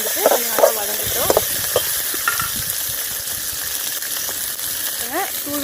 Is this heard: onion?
yes